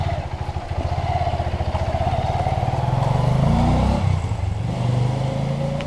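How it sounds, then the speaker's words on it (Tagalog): A motorcycle test-ridden by a security guard gives a close, steady engine drone with a rapid pulsing beat, swelling slightly in the middle before settling, with no talking. "At yun ang motor ng kasama ko"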